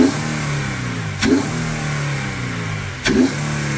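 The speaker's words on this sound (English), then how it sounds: "Rev it hard." An Infiniti G37 with its silencers removed revs hard, giving three sharp throttle blips over a steady, loud engine drone, each blip a quick rising roar that settles back.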